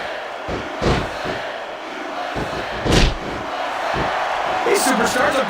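Crowd noise from the WWE Raw vs Smackdown 2006 wrestling video game swells and roars steadily, broken by a few sharp thuds and slams of in-ring action.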